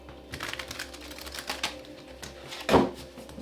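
Tarot cards being shuffled by hand in a final shuffle, a quiet run of soft riffling clicks and rustles ending in a sharper snap as the deck is squared.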